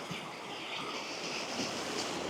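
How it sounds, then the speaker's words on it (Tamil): Steady broadband rush of water, like a fast current or surf, continuous and fairly loud with wind-like noise throughout. "இந்த தண்ணி எவ்வளோ ஸ்பீடாக போகுதுன்னு பாருங்கள்"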